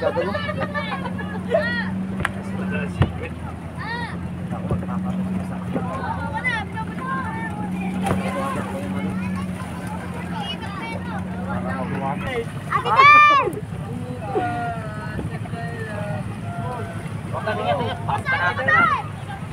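A steady motorboat engine drones underneath a boat ride at a town fiesta, with people talking and calling out over it and wind buffeting the microphone.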